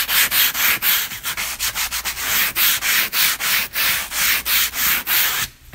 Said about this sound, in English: I'm going to sand this just a little bit more.